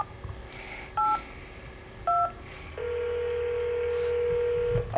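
Telephone keypad tones from a phone call service: two short dual-tone beeps a second apart, then a long steady tone held for about two seconds over faint background noise.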